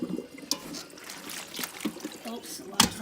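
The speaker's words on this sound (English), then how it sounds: "run it back under water" Water runs and splashes in a kitchen sink while food is rinsed under it, a faint, steady trickle with small splashes.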